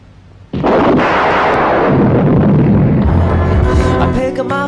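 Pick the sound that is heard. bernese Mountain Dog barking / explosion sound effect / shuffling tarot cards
explosion sound effect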